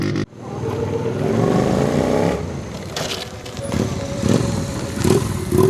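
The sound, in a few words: roar of powerful motorcycle engines at a bike festival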